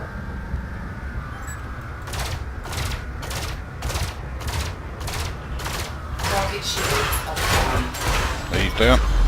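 An enemy ship firing weapons at close range in the space combat game Elite: Dangerous, a steady train of about a dozen evenly spaced blasts, loud over a low engine hum.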